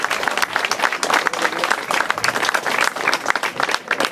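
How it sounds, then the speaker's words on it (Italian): Sustained applause from an audience welcoming the tourism minister at a public event in Vitorchiano, Italy, dense steady clapping throughout with no speech over it. "un applauso al nostro ministro Massimo Garavaglia."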